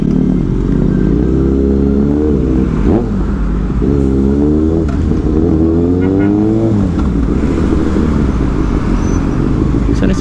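Kawasaki Ninja ZX-6R 636 sport bike engine revving loudly close by, rising and falling pitch sweeps repeated through the clip, with a voice speaking over the engine.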